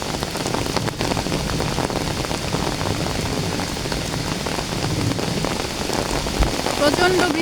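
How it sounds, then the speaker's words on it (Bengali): Heavy rain pounds down on a lychee orchard, a dense, loud, unbroken roar of drops striking leaves and wet ground close by. "প্রচন্ড বৃষ্টি হচ্ছে"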